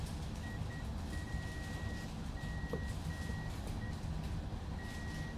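Multimeter continuity beeper sounding while testing a Caddx Vista FPV video transmitter for a bind button and power fault, a thin steady tone repeating in several bursts of varying length over a constant background hum.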